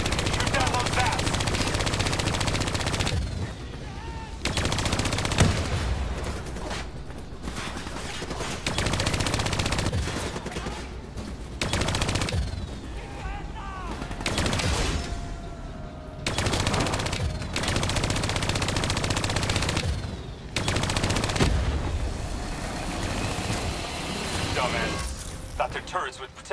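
Automatic weapons fire in the Call of Duty: Black Ops III campaign, loud sustained bursts broken by short lulls, with heavy impacts mixed into the chaotic battle din.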